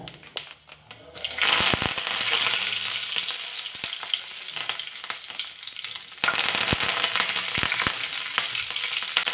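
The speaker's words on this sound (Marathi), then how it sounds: "एक चमचाभर जिरे घातले आणि त्यानंतर मग कढीपत्ता" Cumin seeds and curry leaves sizzle loudly in hot oil while udid vada sambar is being prepared, a steady bright frying hiss that swells sharply when the leaves go in and stays strong throughout, with no talking.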